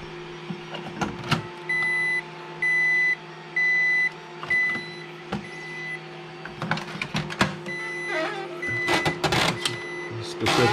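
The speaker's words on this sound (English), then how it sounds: "I have my Epson Colorworks C6500AU." An Epson ColorWorks C6500AU label printer runs in a home sticker shop, giving a steady hum with a repeated series of short electronic beeps, followed by clicks and mechanical feed rattles.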